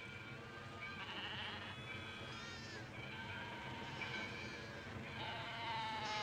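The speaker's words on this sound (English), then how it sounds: "What is it? A Judas goat." A Judas goat bleats repeatedly among livestock, its wavering calls rising over a steady, dense background rumble, fairly close and loud throughout.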